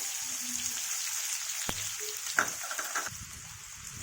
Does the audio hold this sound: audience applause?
no